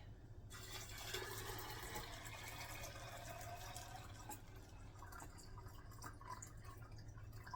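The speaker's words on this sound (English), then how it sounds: "you're going to fill it with water up to the inch mark" Water runs steadily into a canning jar, a soft continuous pouring and trickling with a low hum underneath, fairly quiet and close.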